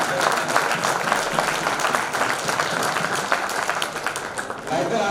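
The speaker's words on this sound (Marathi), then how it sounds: "एकदा जोरदार टाळ्या झाला सगळ्यांसाठी।" Loud, sustained applause from a crowd at a Jain Social Group installation ceremony fills the whole stretch, steady and dense, with a few voices mixed faintly underneath.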